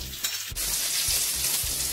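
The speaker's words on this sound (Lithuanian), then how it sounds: "Apkepinam šoninę." Bacon (pork belly) fries in a pan for a goulash stew, giving a loud, close, continuous sizzle broken by a few low knocks and clatters of stirring.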